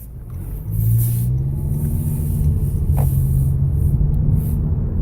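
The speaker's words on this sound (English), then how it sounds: "Not the most peppy motor." A 2017 Honda HR-V with a roughly 149-horsepower engine accelerating, a steady low rumble with a mild climbing drone heard from inside the cabin, moderately loud and without talk.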